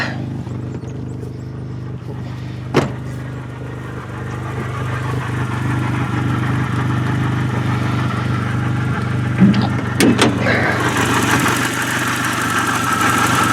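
A small restored car engine idles steadily nearby in the open air with a low, even hum and a light mechanical rattle, broken by a couple of brief knocks and clatters.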